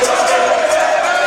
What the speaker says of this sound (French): Il y a une foule derrière.